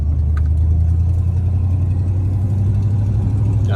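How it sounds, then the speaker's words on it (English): A 1990 Ford F150 XLT Lariat 4x4 with an exhaust manifold leak, its engine droning steadily and loud from inside the cab while driving, a low rumbling hum with no talking. "Got an exhaust manifold leak."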